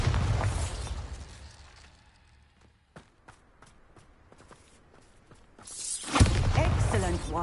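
Hogwarts Legacy's Bombarda spell goes off as a loud blasting boom near the end, after quieter stretches of scattered clicks and small pops.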